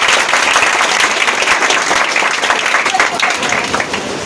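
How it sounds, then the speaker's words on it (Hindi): Loud, dense applause from an audience clapping for a high-scoring student at a coaching class event, steady and sustained throughout with no gaps, easing slightly at the very end. "पहले उसके लिए जोरदार ताली हो जाती है।"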